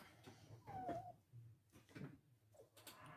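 A cat at home makes brief vocal sounds, a short tonal cry and low murmurs, close and fairly quiet, with soft low rumbling between them.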